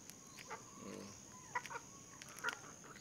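Eleven-day-old Rhode Island crossbreed chicks make faint, scattered peeps and soft clucks, a few brief calls spread over a quiet background.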